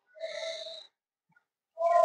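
Deliberately loud breathing during a yoga mobility exercise: one long, slightly wheezy breath, a brief silence, then the next breath beginning, close and clear with no talk.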